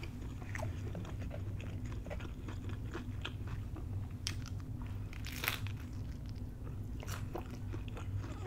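Close, crisp bites and chewing of a crunchy-bottomed open-faced cheesesteak with mayonnaise, repeated crackling crunches and moist mastication sounds over a quiet background.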